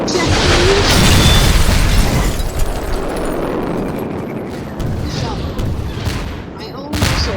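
Missile impact explosion in the War Wings naval air-combat game: a dense, loud rumbling blast with crackling bursts that swell early then taper into sustained booming noise, with a voice speaking over it.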